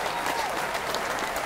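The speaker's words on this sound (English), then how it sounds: "Let me get some hand clap." An audience gives hand claps in a short burst of dense, steady applause, close and continuous with no talking over it.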